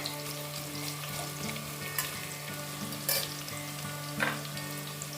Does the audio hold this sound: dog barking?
no